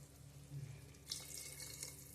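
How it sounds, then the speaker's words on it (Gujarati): Water is poured from a masala-soaked bowl into a pan of cooking Gujarati vegetable curry, a faint, quiet pour with a soft splash and trickle over a low hum. "પાણી નાખી દઈશું."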